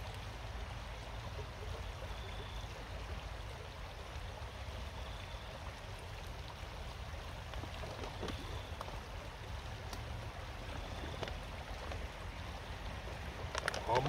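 Stream water runs steadily into a Puribag water purification bag outdoors, a continuous low rushing wash that holds level throughout and swells slightly at the very end.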